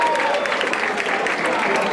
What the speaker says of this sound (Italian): per questa prima parte, applauso,